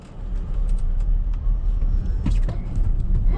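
A Hongqi E-HS9 electric SUV accelerates hard on an icy road, giving a steady loud rumble of tire and road noise with a low hum and scattered clicks throughout.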